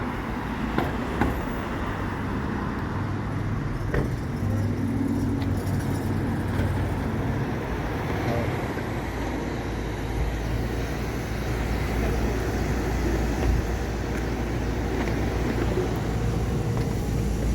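Riding the free Circulator shuttle bus in Bethesda, Maryland: a steady low engine rumble and road noise fill the whole stretch at an even, fairly loud level, with no clear talking.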